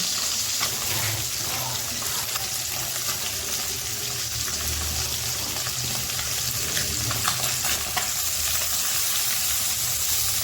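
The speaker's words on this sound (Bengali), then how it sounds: "আগের থেকে হলুদ লবণ দিয়ে মাখা রাখা মাছগুলোকে ভেজে নেব" Koi fish coated in turmeric and salt frying in a kadai, giving a steady, dense sizzle throughout with no voices.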